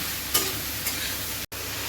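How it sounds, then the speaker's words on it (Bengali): Quick scrapes of a spatula tossing chow mein in a hot pan, two brief strokes over a constant close sizzle. "তাই আমি এমনি একটু ভাজা ভাজা করে নেব"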